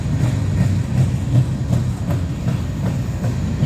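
A military freight train rolls past close by, loud and rumbling, its wheels clattering over rail joints in a steady repeating rhythm.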